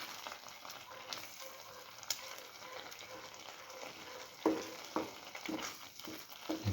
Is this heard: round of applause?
no